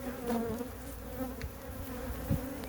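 Bees buzzing steadily around beehive nucs during installation, a continuous close, moderately loud hum with wavering pitch, no voices.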